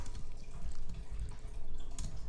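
A can of beer is poured evenly over bacon-wrapped cabbage in an Instant Pot, liquid splashing and dripping in a continuous low gurgle with faint trickles, close by and without talk.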